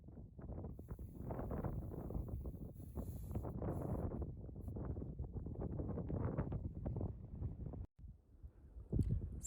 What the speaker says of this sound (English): I'm hiding from the wind because it's so strong